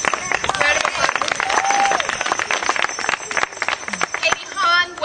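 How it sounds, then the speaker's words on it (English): A crowd at a celebrant graduation ceremony in New Jersey gives a round of applause: dense, continuous clapping close by, with voices and a few whoops mixed in, thinning near the end. "Tony also could not be with us. Round of applause"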